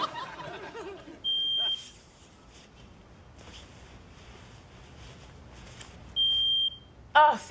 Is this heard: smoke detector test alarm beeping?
yes